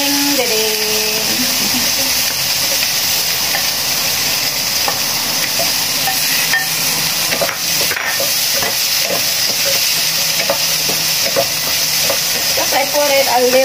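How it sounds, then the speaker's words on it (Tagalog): Potatoes sautéing in oil in a frying pan: a steady loud sizzle runs throughout, with scattered scraping stirs and a few clinks near the end. "gigisan muna natin ang patatas"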